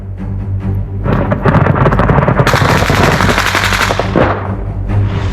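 Machine gun and small arms fire in a battle, loud rapid bursts of automatic fire crackling over a constant rumble, with a denser, harsher burst in the middle and no talking.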